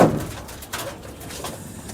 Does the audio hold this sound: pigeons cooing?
yes